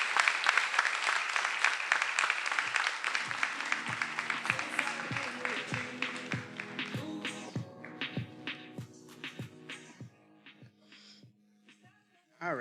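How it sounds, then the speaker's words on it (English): An audience at a Sankofa celebration claps, dense applause at first that thins into scattered individual claps before fading, with a voice entering at the very end. "Let's give them another round of applause"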